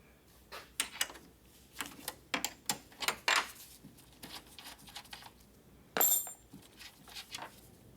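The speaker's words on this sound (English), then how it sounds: "So now let's remove these two 10mm bolts." Two 10mm bolts are removed from a Dodge Ram headlight assembly with a ratchet: irregular sharp clicks and metallic clacks in short uneven bursts, close and fairly loud, with one louder clank partway through.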